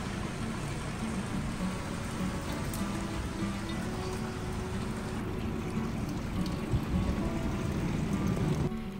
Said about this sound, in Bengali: বাইরে চালু হলো বৃষ্টি।